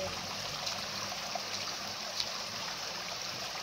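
Water flows steadily near a row of bungalows, a constant hissing wash with no pauses and no voices.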